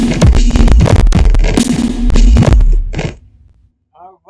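Snare drum sample from a beat for a track, played as a loud, sharp repeating pattern of hits that stops near the three-second mark, followed by a brief spoken voice.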